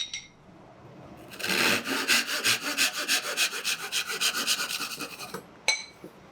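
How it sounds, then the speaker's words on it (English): A thin wooden dowel sawn into 12-inch pieces for a Kubb set, a close run of fast, even back-and-forth rasping strokes lasting a few seconds, then one sharp knock. "This is a slightly thinner dowel, and I'll cut 4 12-inch pieces"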